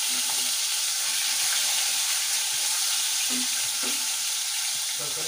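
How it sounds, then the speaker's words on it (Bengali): Snakehead fish pieces fry in hot oil in a pan, giving a steady, dense sizzle throughout with a few soft clinks of a utensil, close and continuous. "এবার পিঠটা ভেজে নেবো।"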